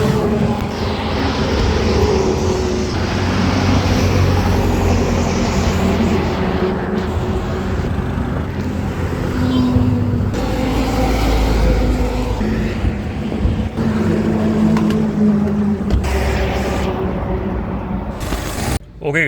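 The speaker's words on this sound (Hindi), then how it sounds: "गाड़ी बंद नहीं करने वाले हम लोग," A car engine idles while parked on the shoulder of the NH48 highway, a loud, steady low rumble with mechanical rattling and passing traffic whooshing by throughout.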